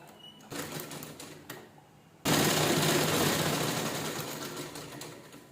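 An electric sewing machine stitching a square of fabric, first in short bursts with pauses, then running in a loud continuous rattling drone close by.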